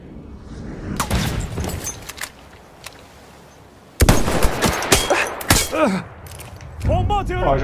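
Gunfire in the Battlefield 1 multiplayer Conquest mode on the Fao Fortress map, with repeated sharp shots and bursts, quieter at first and then louder and denser from the midpoint, mixed with game sounds.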